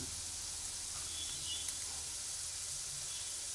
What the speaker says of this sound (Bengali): সব দিয়ে পেঁয়াজ সুন্দর করে ভেজে নিলাম।